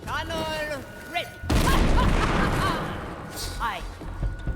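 A cannon fires in the stealth pirate game Shadow Gambit: The Cursed Crew, one loud booming blast that rolls on for a couple of seconds, with character voices talking before and after.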